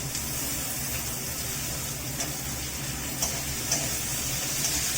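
Cut potatoes sizzling in a pan of frying onions, a steady hiss of hot oil with small crackles and pops, close and continuous.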